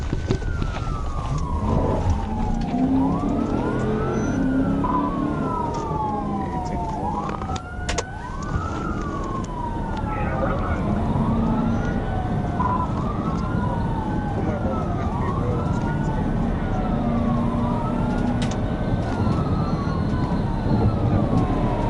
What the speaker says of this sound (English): prompting Haley to activate his sirens and initiate a vehicle pursuit